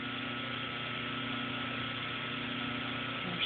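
An old GE electric motor runs steadily and quietly at close range, giving a smooth, even hum with faint harmonic tones and no voices over it.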